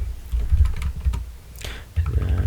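Rapid clicking keystrokes on a computer keyboard, close and brisk in short bursts with a brief pause midway.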